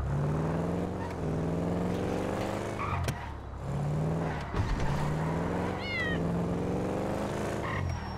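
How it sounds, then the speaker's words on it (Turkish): A cat in Grand Theft Auto V meows a few times over a continuous engine rumble and game background noise, the meows short and mid-loud. "Kedi miydi lan o?"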